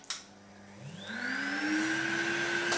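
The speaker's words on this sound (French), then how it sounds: "Donc j'appuie sur le bouton marche de l'aspirateur" A Philips Performer Ultimate canister vacuum cleaner switches on at its lowest power setting, its motor whining upward from a click into a steady, rising hum that settles into a constant drone, close and alone.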